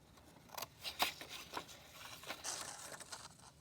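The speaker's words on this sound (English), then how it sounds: "So let's cut out these long rectangles for the legs first." Scissors snip through paper to cut out long rectangles for a shape turkey craft, giving several quiet, irregular crisp cuts with faint rustling between them and no talk.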